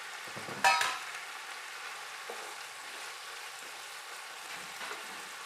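Chicken and long-sliced bell pepper sizzle in a pan as they are stirred, with a sharp burst of scraping and spatter near the start, then a quieter, steady frying hiss throughout.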